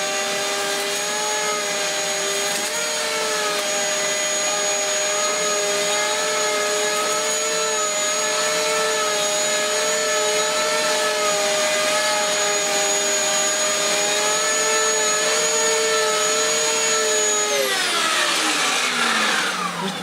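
A Dyson DC11 vacuum cleaner runs continuously with a high steady whine, loud and close, its pitch wavering slightly, then the motor winds down near the end; no talking.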